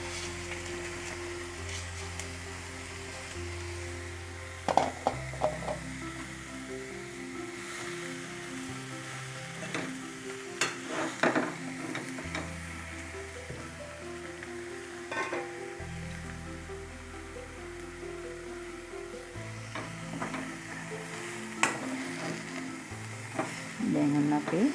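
Jackfruit strips fry in a pan with a steady, close sizzle and bubbling, broken by occasional stirring scrapes and clinks; no talking.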